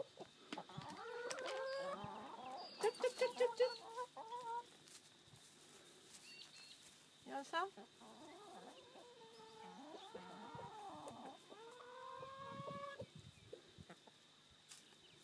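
Chickens and a rooster clucking on an alpaca farmstay in the Hunter Valley, with a quick run of sharp calls early on and scattered nearby clucks throughout, no talking.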